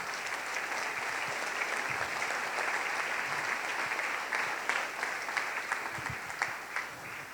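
Steady applause from a church congregation during a Sunday service, dense and sustained clapping filling the room for several seconds with no voices over it.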